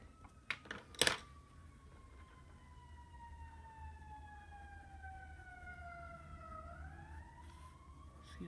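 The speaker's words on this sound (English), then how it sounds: "Excuse those sirens, guys." A siren wails outside, its tone slowly falling then rising again, heard at a distance after a few brief knocks and rustles up close.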